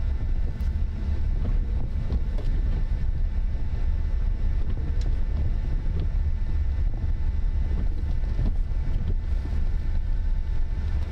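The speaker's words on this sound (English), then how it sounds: "the wind is pretty gusty up here" Gusty wind in a Kansas winter storm buffets the microphone with a constant loud, low rumble and roar that surges and flutters throughout.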